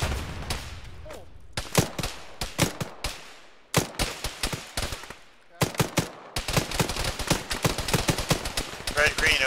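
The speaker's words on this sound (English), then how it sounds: "There's a fucking machine gunner west" Machine gun fire in a tactical video game: sharp, close bursts and single cracks come in irregular clusters with short gaps, growing denser toward the end, with voices faintly mixed in.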